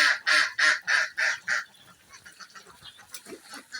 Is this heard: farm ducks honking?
yes